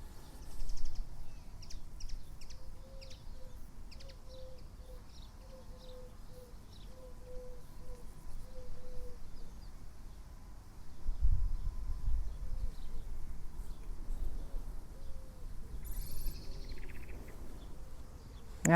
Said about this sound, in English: it was actually quite hard to hear the crickets because there's lots of birds